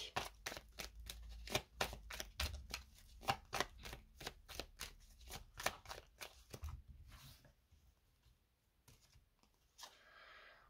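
Tarot cards are riffled and shuffled in quick rhythmic bursts of crisp slaps for about seven seconds, then a few softer isolated taps and slides as the deck is cut, close and fairly quiet with no talking.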